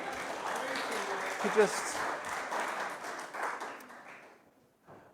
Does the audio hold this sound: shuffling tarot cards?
no